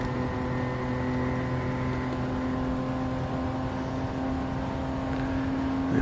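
Steady car engine drone from Gran Turismo 7 with strong sustained tonal harmonics, holding a fairly constant pitch throughout at moderate loudness with no voices.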